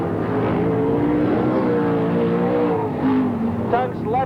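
Sprint cars race around a dirt track at Parramatta City Raceway in 1981, their engines droning and revving steadily at a distance while a commentator talks over them.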